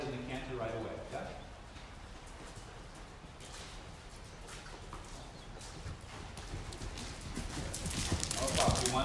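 A horse canters under a rider at a riding clinic, its rhythmic hoofbeats fairly faint, while a voice talks over them.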